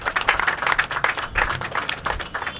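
Applause at a hospital inauguration, a crowd clapping in a dense, uneven patter of many hands, moderately loud and continuous without voices.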